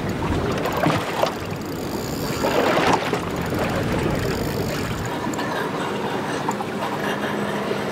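A boat runs past close by on open water off Montauk during false albacore fishing, a steady broad engine and hull wash with wind noise, swelling around the middle then holding on, no talk.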